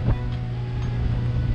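Outdoor harbor ambience at a fishing wharf, with steady low wind and water rumble and a faint motorboat hum, continuous and fairly close, with no speech.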